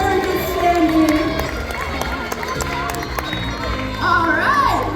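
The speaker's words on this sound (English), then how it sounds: "give yourself a round of applause" A science museum explosion show audience breaks into clapping and cheering, a busy crowd din with overlapping voices and shouts that swells again near the end.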